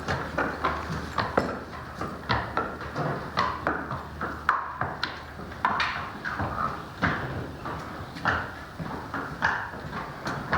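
A horse's hooves clip-clop at a steady walking rhythm, each footfall a crisp close knock, continuing evenly throughout with light background noise and no talk.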